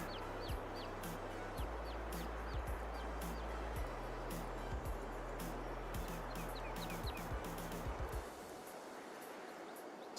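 Chickens cluck in Farming Simulator 22, short repeated clucks and calls scattered over a steady low farm-machinery drone, fairly quiet, with the drone dropping away near the end.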